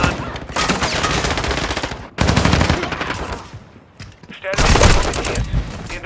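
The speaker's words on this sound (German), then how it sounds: "Stehe unter direktem Beschuss." Heavy automatic gunfire in Call of Duty: Modern Warfare 2, loud sustained bursts with brief pauses between them, close and dominating the scene.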